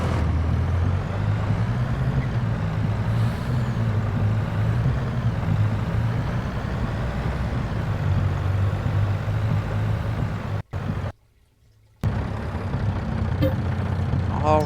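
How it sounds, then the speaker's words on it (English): A semi-truck in Farming Simulator 22 hauls soybeans back to the farm, its engine a steady low drone throughout with a brief dropout near the end, and no talk heard. "find that semi-truck, there it is, and I'm going to head back to the farm"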